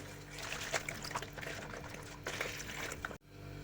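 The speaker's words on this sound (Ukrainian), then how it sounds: "Вливаємо 400 мл теплої води." Warm water, 400 ml, trickles and splashes steadily in a thin stream into a bowl for bread dough, quiet and close, with a soft clunk near the end.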